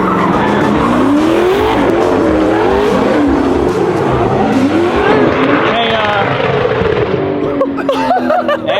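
A built Corvette race car on an off-road test run roars loudly with sustained engine drone, rising revs and tire skidding throughout, with a voice faintly present.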